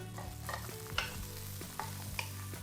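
Sausage and onion stirred in a frying pan: a quiet, steady sizzle with several scraping spoon strokes and a few sharp clinks against the pan, close and alone.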